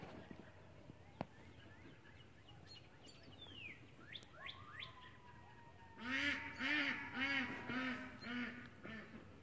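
Distant chirps and bird calls give way to a duck quacking loudly in a rapid series of harsh calls, with coyotes about.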